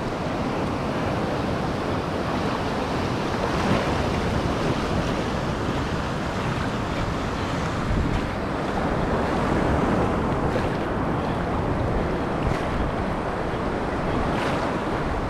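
Surf rolling onto the beach at Padre Island, a steady broadband wash of breaking waves with wind buffeting the microphone, continuous and fairly loud with no voices.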